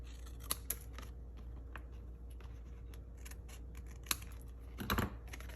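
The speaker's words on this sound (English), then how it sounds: "I'll just come back with my paper snips and trim along the edges." Small paper snips cut along the edges of a stamped penguin card, a series of crisp, quiet snipping clicks at uneven intervals, with a louder rustle of paper near the end.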